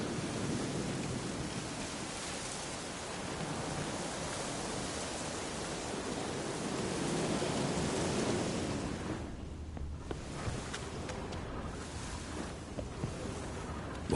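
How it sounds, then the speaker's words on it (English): Steady rain and rolling ambient storm noise in The Witcher 3: Wild Hunt, a dense broadband wash that swells and thins, with no clear thunder crack standing out. "Looks like rain."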